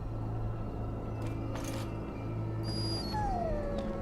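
A sick hound whimpers in the Dragon Age video game, a few thin, wavering whines rising and falling over a steady low ambient drone, moderately close.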